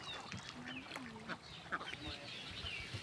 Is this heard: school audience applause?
no